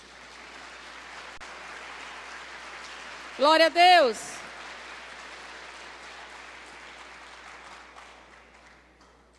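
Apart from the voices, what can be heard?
applause in church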